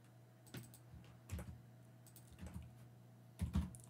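Python code is typed on a computer keyboard, producing quiet, irregular bursts of keystrokes with short pauses between them.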